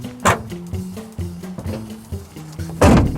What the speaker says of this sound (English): That door latch isn't what it used to be.